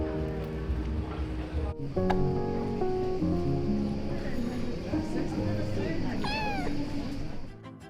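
A cat in Kotor, Montenegro gives a single clear meow near the end, heard over steady outdoor ambience and continuous talking.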